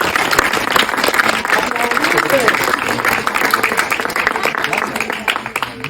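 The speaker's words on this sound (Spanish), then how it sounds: "¡Aplaudirle!" Applause from an audience at a talk on manipulation and persuasion, a dense continuous clapping that stays loud throughout, with voices mixed in among the claps.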